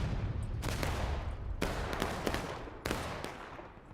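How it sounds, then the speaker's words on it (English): Sustained volleys of artillery and musket fire in the Civil War game War of Rights, Antietam Creek battle: dense overlapping gunfire with three heavy cannon blasts standing out, loud and continuous throughout. "Artillery just laying fucking hate down on the cannons."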